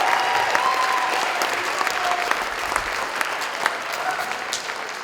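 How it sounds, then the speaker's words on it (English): Steady audience applause fills a school instrumental music concert after a jazz band's number, dense clapping holding at a constant level for the whole stretch with a faint tone drifting in behind it. "How about a round of applause for Jazz,"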